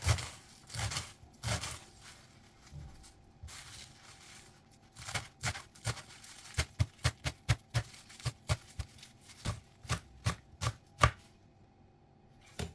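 Callaloo stalks are chopped with a knife on a board, a long run of crisp, evenly spaced thuds that speeds into a steady rhythm, close up, with a low hum in the background.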